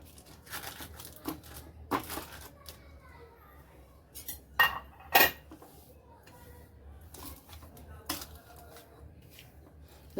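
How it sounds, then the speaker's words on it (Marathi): Sesame barfi mixture is pressed and smoothed with a spatula on butter paper, giving soft intermittent scraping and tapping clicks with a few sharper utensil knocks, fairly close and quiet, with brief speech around it. "मी आता काविलथाने व्यवस्थित करून घेते."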